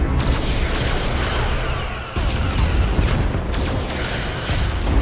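Starship weapons fire and explosions in a Star Trek Resurgence battle, a continuous loud rumbling barrage of booms with a brief dip midway.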